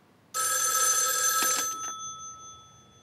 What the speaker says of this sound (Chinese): 大哥，江冲志来电话说秦家的三小姐要见你。